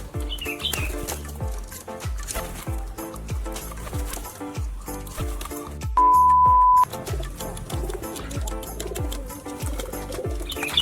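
Domestic pigeons coo in repeated low throaty pulses, steady and close, with rustling and wing flutters mixed in and a brief electronic tone midway.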